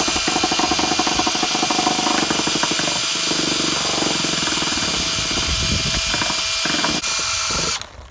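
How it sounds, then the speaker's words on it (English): A power buffer at its highest setting polishes a hazy car headlight, a loud, steady mechanical whir with a rapid rattling pulse that holds throughout and cuts off near the end. "and just start buffing"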